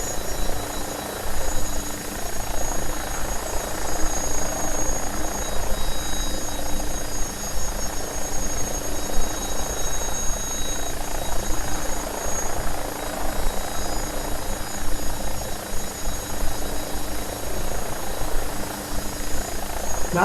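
An AgustaWestland AW109SP helicopter in flight on approach, a loud steady rotor and turbine drone with constant high whine, continuous and close from inside the cabin, without speech.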